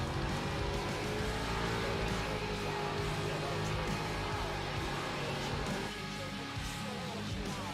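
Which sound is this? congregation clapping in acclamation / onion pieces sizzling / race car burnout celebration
race car burnout celebration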